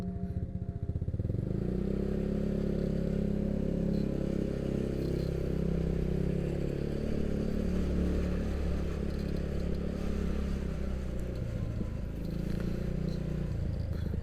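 Motorcycle ridden at night on a village road with a deflated rear tyre, a loud, steady engine drone and road rumble throughout, close up with wind noise and no talk.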